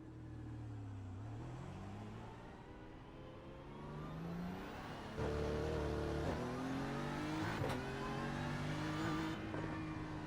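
A GT3 race car at Brands Hatch circuit revs and shifts through gears, its engine note rising and dropping as it drives on the track, loud and continuous throughout.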